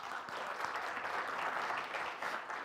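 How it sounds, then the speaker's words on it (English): Church congregation clapping during a Sunday service, a steady wash of applause heard fairly faint and distant, continuous throughout the short stretch with no speech. "Let's clap that up."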